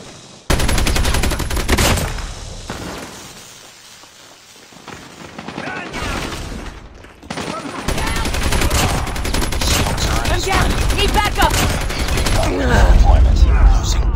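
Rapid gunfire rattles through a multiplayer shooter match featuring an RPD light machine gun, sustained bursts and loud volleys filling most of the stretch with a brief lull midway, while game voices call out beneath the shooting.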